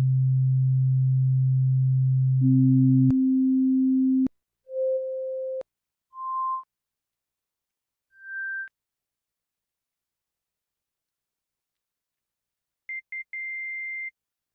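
Sononics Revival drawbar synthesizer organ plays a series of pure sustained tones stepping upward in pitch, each held briefly with short gaps, ending in a high tone with a few quick stuttering onsets before a steady hold.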